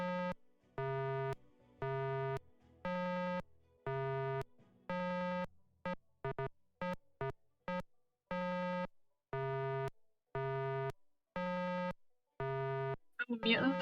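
Harsh, buzzy synthetic puzzle tones from the Nancy Drew: The Deadly Device video game, sounding as a regular series of identical sustained beeps separated by short gaps, with a brief flurry of quicker clipped tones midway.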